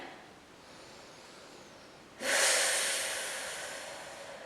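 A deep, breathy exhalation during a Pilates exercise starts suddenly about halfway through, loud and close, then slowly fades, with only quiet room hiss before it.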